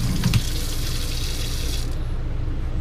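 Water from a new pull-down kitchen faucet sprays into a sink in a motorhome kitchen, a loud steady hiss that runs on and cuts off near the end.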